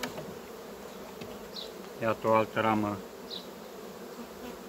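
Honey bees hum in a steady, faint drone around hive frames from a colony of mixed bee breeds, with someone speaking briefly over the buzzing.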